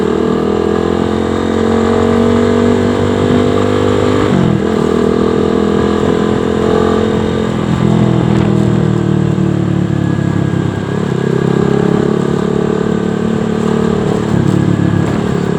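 A motorcycle engine drones steadily while riding, its pitch dipping and rising with gear shifts, loud and close throughout.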